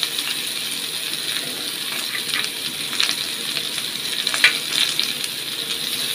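Cabbage fries in a pan with green chili and chopped onion, giving a steady close sizzle with faint scattered crackles and light scraping, no voices.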